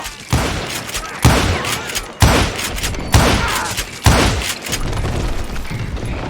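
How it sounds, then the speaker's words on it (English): Gunfire from many hired guns in Call of Juarez Gunslinger: loud volleys of shots, with five sharp bursts arriving about a second apart, each trailing into a dense, echoing rattle of overlapping fire. "Sounds like Garrett hired a whole regiment of hired guns."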